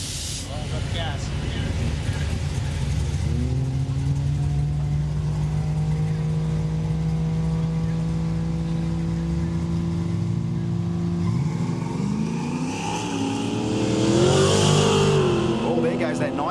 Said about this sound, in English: Oh, there goes that nitrous.